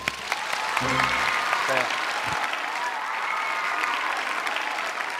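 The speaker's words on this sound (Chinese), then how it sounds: "来掌声鼓励" An audience bursts into clapping on a televised opera competition stage, a sustained wash of applause with a few short spoken words over it near the start, fading gradually under the hall's din.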